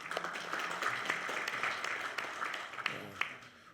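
Audience applause at a Korean independence declaration anniversary ceremony welcoming an honored guest, a steady wash of many hands clapping with a few sharper claps standing out, continuous for several seconds.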